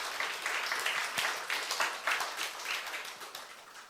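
A church youth congregation applauds during a worship service, steady clapping that swells and holds across the whole stretch, moderately loud and close, with no talk over it.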